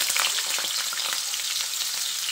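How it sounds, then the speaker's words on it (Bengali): Large cut potato pieces frying in hot oil, a bright, dense crackling sizzle, steady and close, with no voices. "এবার তেলটা ভালোভাবে গরম হয়ে এলে এই কেটে রাখা আলুগুলো এর মধ্যে দিয়ে দিচ্ছি"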